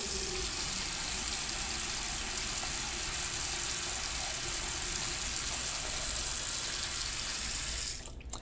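An apartment tap runs steadily in an artist loft, giving a continuous close hiss of water that stops abruptly near the end.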